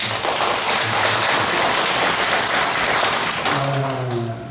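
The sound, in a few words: congregation applause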